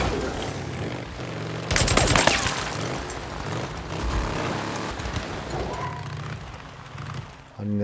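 Loud bursts of rapid gunfire from the video game Days Gone crack out in a dense volley, then settle into ongoing rumbling action with engine-like noise.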